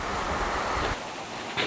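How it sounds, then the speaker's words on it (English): Wind gusting across an open lakeside spot, a steady broadband rush with low microphone buffeting that eases off partway through, then a brief renewed gust near the end. "it's getting quite windy actually"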